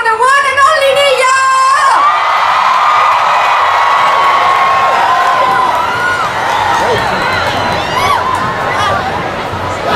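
A large concert crowd at Expo 2020 Dubai's Jubilee Stage cheers and shouts, a loud, sustained roar of whoops and high children's screams filling the whole span, with a few shrill whistles near the start.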